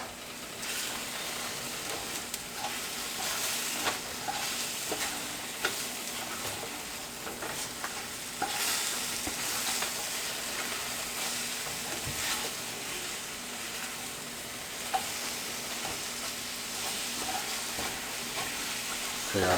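Eggs frying in a pan for a diner-style breakfast give a constant close sizzle and hiss with occasional light scrapes of a utensil, steady throughout and without speech.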